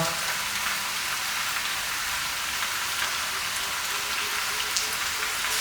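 Pork belly stir frying in a hot pan, a steady dense sizzle and crackle running evenly throughout with no pauses.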